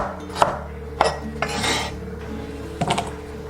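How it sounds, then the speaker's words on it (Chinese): A knife cuts a small piece of fresh ginger into slices on a cutting board, giving a few sharp, separate chopping knocks and brief scraping rasps, close and clear, with no talking. "然后1小块生姜切片"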